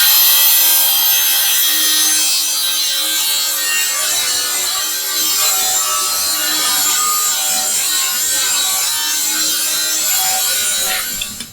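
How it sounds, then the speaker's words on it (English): Hand saw ripping a timber board down to width for a Shaker style coat rack, a long continuous rasping cut with steady strokes, close and loud, no talking. "Is just rip this down a bit because it's a bit wide, not quite in proportion."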